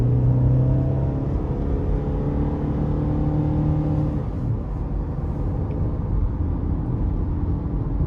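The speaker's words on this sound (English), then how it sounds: "We'll give it a little throttle here." A 2012 GMC Terrain SLE-2 with the 2.4 engine and about 199,000 miles accelerates under throttle, its steady engine drone rising in pitch, then dipping briefly as a gear shift arrives, heard from inside the cabin.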